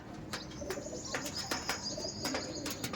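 Female Andhra pigeons in a loft give soft, repeated coos with occasional chirps and a brief flutter of wings, close by and steady over a low background hum, with no talking.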